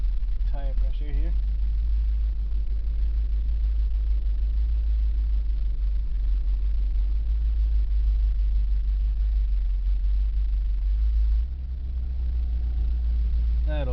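A 1977 Dodge van's engine idles steadily with a deep low rumble through the whole stretch, close and continuous, with a brief dip near the end.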